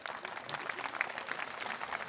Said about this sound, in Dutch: Een applausje van het publiek